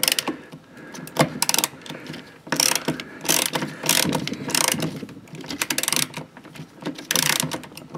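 A ratchet wrench loosens and backs out the steering column bolts on a 1987 Oldsmobile 442, its loud, fast clicking pawl coming in repeated close bursts with short pauses between strokes.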